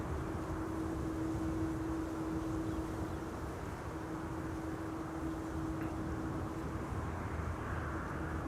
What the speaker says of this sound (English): Next airplane leaving should be Delta Airlines Flight 161 to Minneapolis, Minnesota. That's an A350.